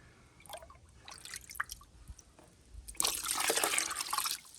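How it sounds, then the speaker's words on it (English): Water is scooped from a small medaka pond in winter. Scattered drips and light sloshing build into a louder, continuous splashing pour in the last seconds, close by and with no talking. "I'm just scooping the water and not coming it out by accident"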